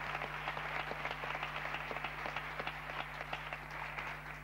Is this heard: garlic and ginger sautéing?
no